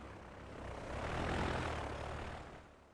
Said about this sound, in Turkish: Planörlerimiz çıkış sağlıyorlar.